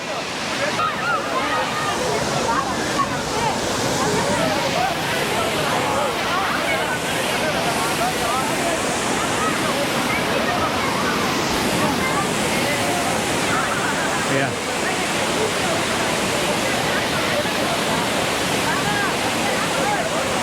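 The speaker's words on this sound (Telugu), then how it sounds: "ఇది ఎరువుకిలం వాటర్ ఫాల్" Lakkam waterfall in Eravikulam National Park roars as a steady, dense wash of falling water, loud and continuous, with some wind buffeting the microphone.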